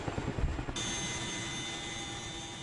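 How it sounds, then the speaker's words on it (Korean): Aircraft engine droning loudly overhead at about 600 m during a military parachute jump, a steady, sustained roar that holds on continuously with a slight shift in tone partway. "시끄러운 엔진음이 600m 상공에 머물자 대원들은 한치의 망설임도 없이 몸을 내던진다."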